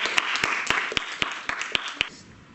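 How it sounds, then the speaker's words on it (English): Sparse hand clapping from a small group at a primary school public speaking contest, about ten distinct claps in an uneven rhythm, fairly close and moderately loud, fading out at the end. "A great applause for him."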